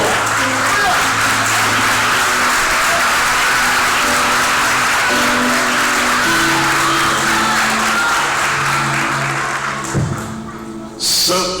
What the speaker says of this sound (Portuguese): Se assente aplaudindo o nome do Senhor.